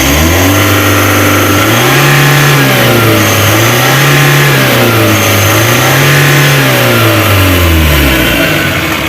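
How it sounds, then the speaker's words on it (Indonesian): A Mitsubishi L300 Euro4 engine is revved hard at full throttle, loud and close, its pitch rising and falling in repeated surges over about nine seconds. "Ini saya gas mentok."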